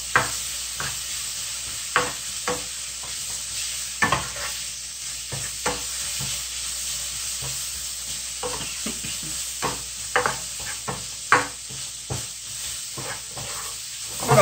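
Chili and other ingredients for jjamppong sizzle steadily in a hot pan while being stir-fried, with a constant hissing fry punctuated by irregular scraping and stirring knocks, close and moderately loud.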